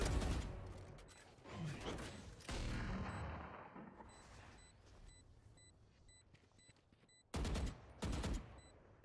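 Gunfire in the shooter game Valorant comes in sharp loud bursts, a cluster of shots near the start and two more bursts near the end, with quieter game ambience and beeping between them.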